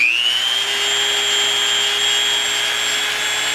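A small high-speed power tool spins up and holds a steady, loud whine while polishing a part of a Ruger SR9 pistol, then cuts off abruptly at the end.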